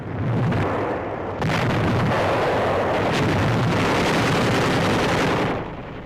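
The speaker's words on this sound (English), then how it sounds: "The Japs are bombing us from outside." Archival wartime sound of Japanese bombing of the Corregidor fortress in the Philippines, dense rolling explosions and blasts forming a loud continuous barrage that fades slightly at the end, with no speech.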